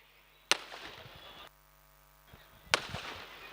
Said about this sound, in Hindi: जो भी फटाके फोड़ने वाले हैं, आतिशबाजी जो भी हो रही है